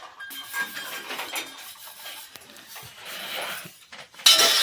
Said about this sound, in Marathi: आता भांडे घासायचे आणि इथं लावायचं.